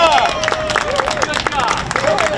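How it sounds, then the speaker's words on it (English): A crowd at an outdoor tribute gathering claps for veterans, volunteers and first responders, producing brisk, uneven applause with scattered hand claps over murmuring voices. "Can we give all of them a round of applause as well?"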